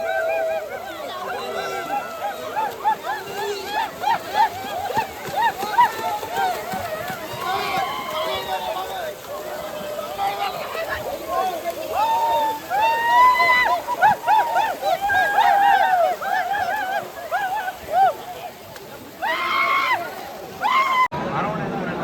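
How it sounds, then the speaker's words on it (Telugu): Bathers wash and splash in a temple pond on the Sabarimala pilgrimage route, with steady water sloshing under a busy crowd of overlapping voices and chatter throughout. "స్వాములు అందరూ శుభ్రంగా ఇక్కడికి వచ్చి భస్మాకులంలో స్నానం చేస్తున్నారు"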